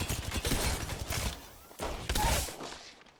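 A grenade blast and gunfire in the Apex Legends video game, several close bursts of crackling noise and thuds in quick succession over about three seconds.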